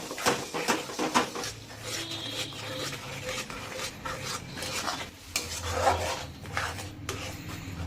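A spoon stirs and scrapes through eggs and salt in a pan for egg bhurji, a busy rhythmic rasping with light clinks, close by and moderately quiet, with no voices.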